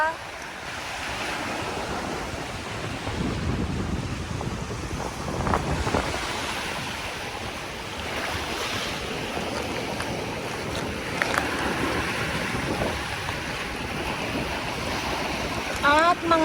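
Waves wash along the shore of Dolomite Beach on Manila Bay after a typhoon, a continuous broadband surf roar with gusty wind buffeting the microphone throughout.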